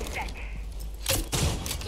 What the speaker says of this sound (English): Shoot out this goo mine right here.